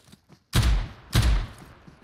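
AK rifle gunfire in the PUBG Mobile video game: two heavy booming shots about half a second apart, loud and close, each trailing off into a short rumbling decay.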